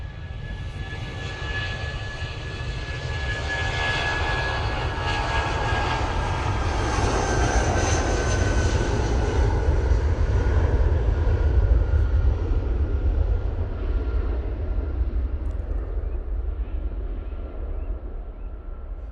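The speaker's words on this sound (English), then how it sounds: "Nice landing there from the Ethiopian." A large Ethiopian airliner roars past landing at Manchester Airport, engine noise swelling to a peak midway and then fading as it lands, with a whining tone over the deep rumble.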